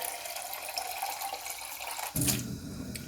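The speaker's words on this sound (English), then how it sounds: "I'm just gonna rinse it out." Tap water runs steadily while a hydroponic container is rinsed, then the stream grows louder and fuller for the last second as the water hits the container directly.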